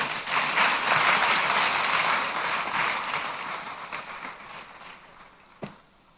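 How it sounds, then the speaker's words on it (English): Steady audience applause at a conference, loud at first and gradually thinning out, ending with a single sharp clap near the finish. "another round of applause"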